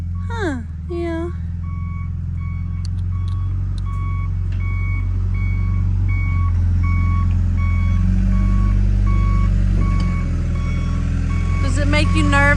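A backhoe runs with a steady low engine rumble while its reversing alarm beeps in a regular, repeating pattern, close and loud throughout, with brief voice sounds near the start and end.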